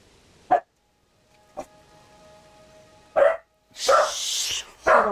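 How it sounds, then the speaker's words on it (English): A dog barks in several sharp, close bursts with pauses between, heard over a quiet indoor background with a faint steady tone. "Your dog's barking back at my dog"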